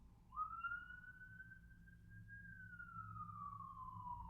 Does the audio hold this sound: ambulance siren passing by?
yes